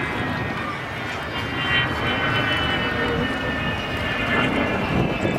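An Avro Vulcan XH558 bomber flying a display at a Scottish airshow in 2015 produces a continuous engine roar that swells and fades slightly, heard from a distance in open air.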